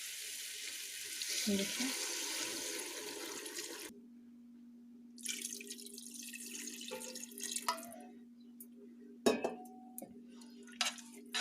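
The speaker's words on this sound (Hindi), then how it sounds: "Now we will add water, 1/2 litre water add करेंगे।" Half a litre of water pours into a cooking pot for Kashmiri monje haakh with mutton, a steady splashing stream that stops partway, followed by quieter drips and light clinks, with a voice speaking briefly.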